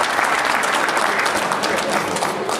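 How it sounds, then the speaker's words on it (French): Steady applause from an audience greets a regional champion before a blackball pool final, dense and sustained clapping from many hands filling the room without a break. "Merci d'applaudir."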